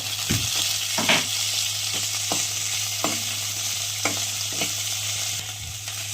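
Ingredients for coconut chutney sauté in a pan with a little salt, giving a steady close sizzle under a low hum, with a few short scraping stirs along the way.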